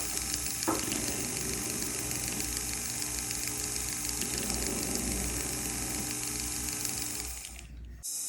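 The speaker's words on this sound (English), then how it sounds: "Right now we're using a rubber wheel, and what we're trying to do is just clean up the outside of the prongs" A rotary tool spins a rubber wheel against the prongs of a pre-made ring, giving a steady, close whirring buzz that runs evenly and cuts off just before the end.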